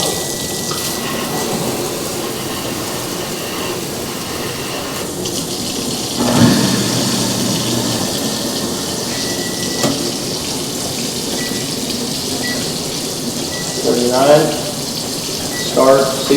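Water runs steadily from a shower in a newly built home during an inspection, a continuous hiss that stays fairly loud, with a few brief knocks and clatters on top.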